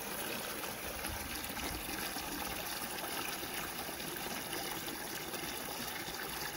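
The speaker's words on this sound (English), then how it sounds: "See the flow coming out of the stainless steel hose is much smaller." Water runs from a 100-foot stainless steel heavy-duty garden hose in a steady, soft, continuous hiss and trickle, with no voices.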